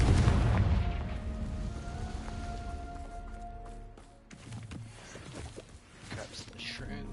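Confringo fire spell exploding in Hogwarts Legacy, a loud booming burst at the start that rumbles and fades, followed by softer game sounds with a voice speaking.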